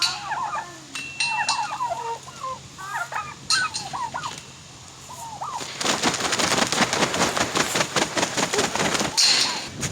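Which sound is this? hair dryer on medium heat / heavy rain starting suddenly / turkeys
turkeys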